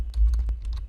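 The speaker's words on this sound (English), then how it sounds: "Now I will press enter" A single computer keyboard keypress, the enter key, with a few light clicks of neighbouring taps, close and quiet in a still room.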